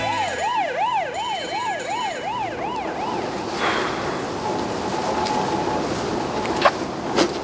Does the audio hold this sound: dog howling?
no